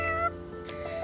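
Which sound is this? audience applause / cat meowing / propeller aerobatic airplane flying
cat meowing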